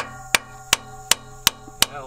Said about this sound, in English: So we're gonna fix it with a hammer.